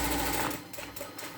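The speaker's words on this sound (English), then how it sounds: "So now just stitch right down the middle of the elastic." A sewing machine stitches down the middle of elastic on a volunteer coverall, a steady close-up motor whir that runs loud and then eases slightly toward the end.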